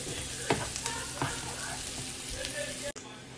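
Spice paste for a pompano fish curry fries in a pan with a steady, fairly soft sizzle, broken by a few sharp stirring clicks and scrapes.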